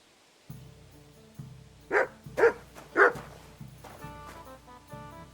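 A dog in Kingdom Come: Deliverance II gives three sharp, close barks in quick succession, set against a low, steady backdrop of game ambience.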